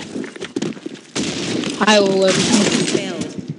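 Gunfire bursts from the video game BlackShot, loud bangs and crackling shots mixed with people talking over them.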